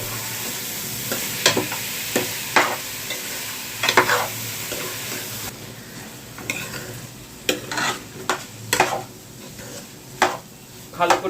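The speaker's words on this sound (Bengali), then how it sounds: "ভালো করে একটুখানি 2 মিনিট ফ্রাই করে নিতে হবে চাল আর ডালটাকে" Rice and lentils fried in a pan, a continuous sizzle broken by repeated scraping stirs of a utensil against the pan at an irregular rhythm, close and clear, with no voices.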